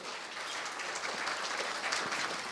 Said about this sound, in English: So ladies and gentlemen, a massive round of applause for Dr. Jeanette Minnaar van Veyring.